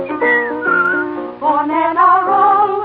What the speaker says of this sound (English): Maybe they'll whistle and you will hear.